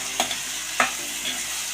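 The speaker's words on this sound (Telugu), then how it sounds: "ఒకసారి బాగా కలుపుతాము." Stirring tomato pieces, green chillies and green gram curry in a pan over a light sizzle, with a few soft spoon scrapes spaced apart and no talking.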